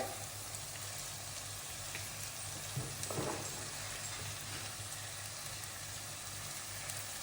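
Green chili, mint and coriander sauté in a hot pan, a steady, even sizzle with faint stirring scrapes, no voice.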